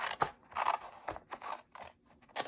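Scissors snip through paper while a treat holder is cut out, about six separate crisp cuts in an uneven rhythm, close and fairly quiet, with no talking.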